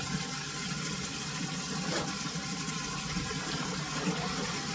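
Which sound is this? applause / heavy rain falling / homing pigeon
heavy rain falling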